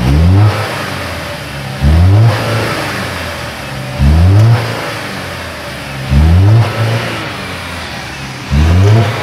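A 2013 Chevrolet Captiva Sport with power loss and multiple faults revs repeatedly, five sharp bursts of acceleration spaced about two seconds apart, each dropping back toward idle between them; loud and close.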